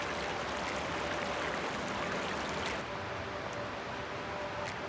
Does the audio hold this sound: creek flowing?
yes